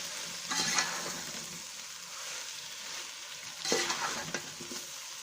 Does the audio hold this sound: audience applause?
no